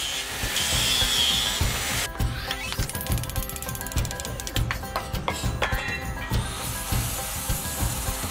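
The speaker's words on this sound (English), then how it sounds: "Trev getting on with cutting the bolted ends of the arms out" Metal stabiliser arms having their bolted ends cut out in a workshop: harsh, continuous mechanical grinding and rasping with rhythmic pulses, close and loud, changing tone several times across the cut, with no talking.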